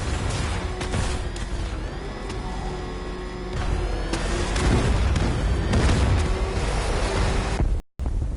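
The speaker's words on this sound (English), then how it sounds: "Warning, explosion imminent." Loud, dense rumbling blasts and booms of an explosion in the video game Batman: Arkham Knight fill the scene, with layered crashes and a sustained roar, ending in a brief cut to silence.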